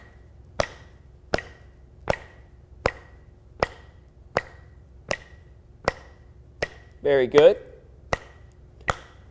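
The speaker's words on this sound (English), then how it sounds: "start clapping your hands together with your foot" Single hand claps fall at a slow, even beat in a percussion practice exercise, each one sharp and close. The claps are paired with a foot tap, and a brief voice speaks near the end.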